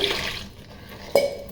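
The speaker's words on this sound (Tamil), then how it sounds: "தேவைப்பட்டு தண்ணி ஊற்றி" Water poured into tamarind to thin it for a fish curry in a Mumbai kitchen makes a short splash at the start, then a single sharp drip-like plop.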